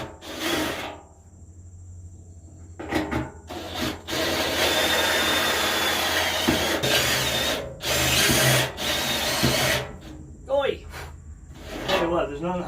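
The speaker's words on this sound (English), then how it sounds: "easier to start with a really small bit instead of starting with the unibit" Step drill bit boring through metal on a budget garden tractor project, heard as several loud grinding bursts of varying length separated by short pauses, with a person speaking between the cuts.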